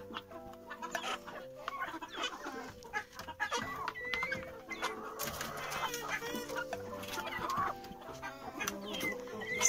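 Flock of recovering hens at feeding time, clucking busily and almost continuously at close range, with overlapping calls, short squawks and occasional pecking noises.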